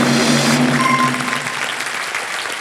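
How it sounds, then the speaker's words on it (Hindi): Studio audience on the Hindi quiz show Kaun Banega Crorepati breaks into applause, a loud full burst of clapping that fades and thins out over a few seconds with faint music underneath. "ताली बज जाए"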